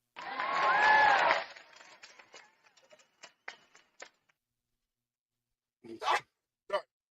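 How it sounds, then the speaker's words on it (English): A single loud, close human sneeze bursts out at the start, followed by faint scattered rustling and clicks, then brief talk near the end. "I had to sneeze."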